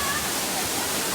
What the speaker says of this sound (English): This waterfall is Kialiam